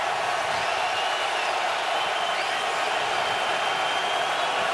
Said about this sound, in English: The crowd into it early